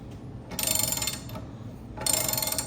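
Ratchet socket wrench turning a bolt during a bicycle build, two bursts of rapid ratcheting clicks at close range separated by a pause, no talking.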